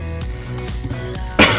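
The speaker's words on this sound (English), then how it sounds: "Sorry, I'm like coughing a lot today" A person coughs several times in a rough, rhythmic burst of short throaty coughs, close to the microphone, ending in a louder harsh cough.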